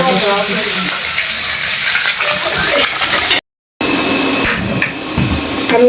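Bori, small lentil dumplings, frying in oil in a pan, giving a steady hissing sizzle with scattered crackles and a knock or two, interrupted by one brief dead-silent gap.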